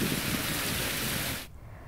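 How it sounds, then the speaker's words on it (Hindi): Heavy rain with strong wind in Bettiah, a loud, dense hiss of pouring rain and gusting air that holds steady and then cuts off abruptly near the end, with no voices. "तेज हवा के साथ यहां पर बारिश हो रही है।"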